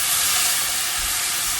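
Paprika sauteing in a hot pan for shakshuka, a dense, even hiss of sizzling oil, loud and close, holding steady throughout.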